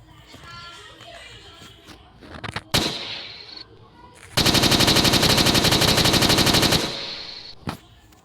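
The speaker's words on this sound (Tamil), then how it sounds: "இது அந்த ராக்கெட் லான்ச்சர் வாங்க. இப்போ சுட்டு பார்ப்போம்." A rocket launcher fires in a gun simulator video game. Loud synthetic bursts ring out, then a dense rapid stream of shots runs for about two seconds and ends in a final single blast, with no speech.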